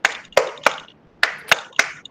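Six sharp, close hand claps in two quick groups of three, with a short pause between the groups.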